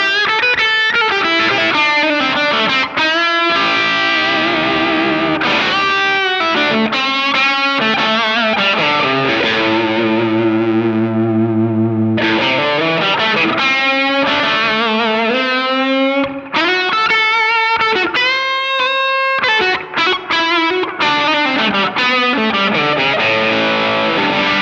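Electric guitar driven through a new Marshall Blues Breaker distortion pedal, loud, bright and continuous, with sustained overdriven chords and single-note lines ringing out alone.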